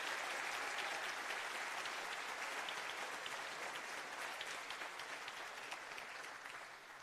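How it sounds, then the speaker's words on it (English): Audience at a Formula SAE Michigan design awards ceremony applauds in a steady, full round of clapping that holds for several seconds before starting to fade. "let's give Berlin another round of applause for their second place finish in"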